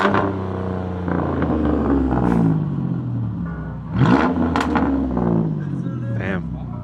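A car engine revs at a car meet while loud music with heavy bass plays, the engine rising and sweeping in pitch around the middle as voices talk over the mix.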